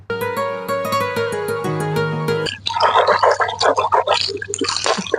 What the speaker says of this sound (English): Right now I am cleaning my mouth